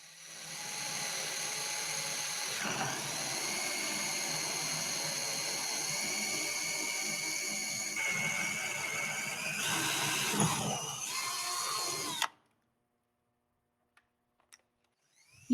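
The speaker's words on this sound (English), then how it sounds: "Start with a pilot drill bit and then open the hole with a letter D drill bit." A power drill whines continuously for about twelve seconds, pitch wavering as it bores a hole with a pilot bit, then cuts off into near silence with a few faint clicks.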